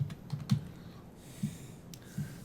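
Keystrokes on a computer keyboard while searching for Linux in the Microsoft Store, a few separate soft taps with pauses between them, close and quiet, no talking.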